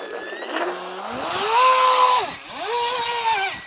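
A Fei Lun FT012 brushless water-cooled RC racing boat runs at half throttle, its high electric whine rising and falling in two strong surges as it speeds across the water, loud and fairly close with no talking.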